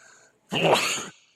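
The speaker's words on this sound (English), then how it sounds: "Woo, sneeze." A single short, sharp sneeze burst, fairly close and loud, with near silence before and after.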